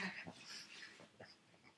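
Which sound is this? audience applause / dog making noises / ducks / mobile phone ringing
dog making noises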